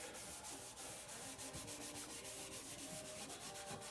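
Walnut oil rubbed onto the neck of a 12-string guitar by hand, a continuous close, soft scrubbing hiss with a faint back-and-forth rhythm and no talking.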